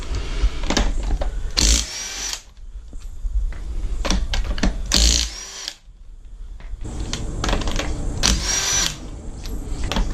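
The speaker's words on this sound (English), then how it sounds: "using the best tool ever, our 1/2-inch rattle gun, we'll take the wheels off" A 1/2-inch impact wrench removes the wheels from a jacked-up Jeep, giving loud, close rattling bursts in quick succession with short pauses between them.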